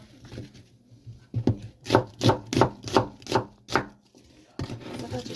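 A knife chops a small onion on a cutting board for braised dried pollock, with about eight to ten crisp, evenly spaced thuds in a quick run, close and clear, and no one speaking.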